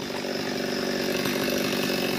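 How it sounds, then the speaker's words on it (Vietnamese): A chainsaw cutting a coconut tree roars loud and steady from close by, its engine note holding at full throttle with no pauses. "Có cưa bỏ cái dừa này luôn không nữa"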